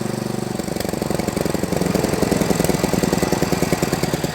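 A petrol-engine carpet spinner runs loudly nearby with a rapid, rhythmic mechanical pulsing that steps up in intensity after a moment and keeps chugging steadily.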